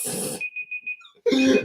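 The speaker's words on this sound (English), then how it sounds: "Oh, let me turn this off. Stop beeping." An electronic alarm gives a short series of thin, high beeps in a quiet gap between bursts of speech, with a voice talking just before and right after.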